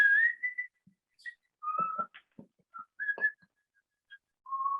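A man whistles a melody from Mozart's opera The Magic Flute, a clear solo tune of sustained and quick notes with short pauses between phrases, close and alone.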